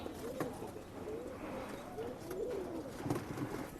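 A female Rekdar breeding pigeon coos nearby, a few low throaty rolling calls rising and falling over quiet loft ambience.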